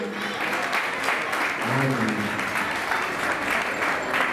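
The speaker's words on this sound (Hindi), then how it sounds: "जोरदार तालियां हमारे इलाके के लिए" Applause rings out at a Digambar Jain temple ceremony, steady crowd clapping throughout with a voice briefly heard over it partway through.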